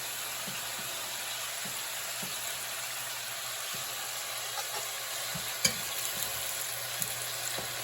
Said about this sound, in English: we're going to start cooking our portobello mushrooms for a few minutes